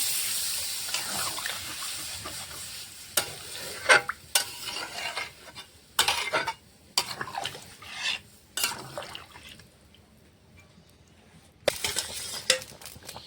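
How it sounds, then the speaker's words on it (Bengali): Water goes into a pan of fried, masala-coated potato and pointed gourd curry, giving intermittent sizzling and splashing with sharp bursts of stirring and scraping, separated by quieter gaps. "আলু পটল দিয়ে মশলাটা ভালো করে কষিয়ে নিয়েছি। এখন দিয়ে দেবো জল, পরিমাণ মতো।"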